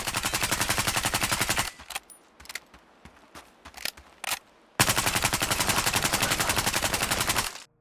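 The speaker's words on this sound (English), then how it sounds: "the MP5 is the standard base SMG, but this has a built-in suppressor" Suppressed MP5 submachine gun in Battlefield Hardline, fired in two long, dense automatic bursts of rapid, even rhythm, separated by a short stretch of scattered single shots and mechanical clicks.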